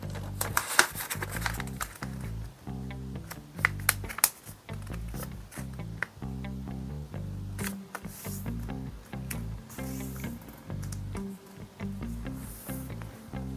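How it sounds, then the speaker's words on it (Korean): Paper being folded by hand for origami of a toy race car: close crisp crinkles, creases and taps come in irregular bursts over a low steady background tone, with no talking. "자, 그 다음 다시 반을 접어주세요"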